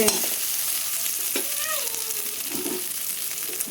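Ginger and garlic fry in oil as a base for khichuri, with a loud, close, steady sizzle and a few scraping stirs of a spoon through the pan.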